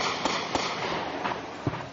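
Gunfire in Afghanistan as insurgents ambush troops, with distant sharp cracks spaced across a short stretch under steady outdoor noise.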